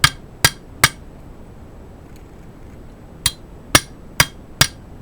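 Hammer blows on a power steering pump bushing as it bottoms out on the shaft, three quick strikes, a pause, then four more, each with a slightly duller, tighter ring than a free strike.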